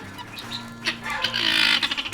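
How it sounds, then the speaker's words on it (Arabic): Guinea fowl call in a bird enclosure, giving harsh, loud, repeated squawks that grow denser and more rhythmic toward the end, over a steady low hum. "دجاج الوادي يا جماعة طيور جميلة جدا لكن صوتها مزعج جدا."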